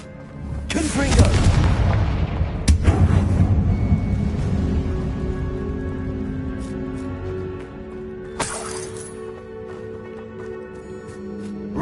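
Booming blasts from a Confringo spell in a Harry Potter style video game, two heavy explosive bursts with a long rumbling tail and a third sharper one later, loud and close.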